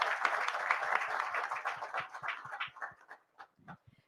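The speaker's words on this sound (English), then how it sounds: "Can we please give him a big round of applause?" Round of applause at an AI summit, clear individual claps in a fairly sparse rhythm that thins out and fades toward the end, moderately near.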